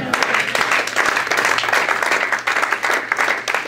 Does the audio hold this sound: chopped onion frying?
no